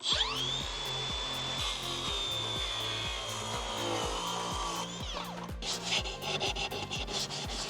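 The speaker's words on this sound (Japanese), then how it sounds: "いつも収納しているテーブルの場所と同じ場所に収納できるように同じ長さに切りたいと思っています" Power saw cutting wood boards to length for a small camping-car table, a steady high whine with a pulsing mechanical chug, continuous and close, rising to harsher rasping cuts near the end, no talk.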